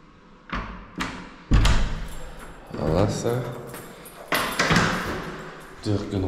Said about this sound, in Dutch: Deurken op slot.